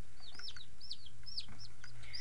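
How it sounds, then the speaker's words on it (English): Young New Hampshire Red chicks give a series of high, quick peeping clucks, about six short calls in a brisk irregular rhythm, close but fairly quiet over a low steady hum. "Little New Hampshire Reds."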